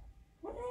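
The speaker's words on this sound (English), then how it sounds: "She's barking." A dog gives a short burst of barking and yipping in a room, close and moderately loud after a quiet moment, while a woman reads a picture book aloud.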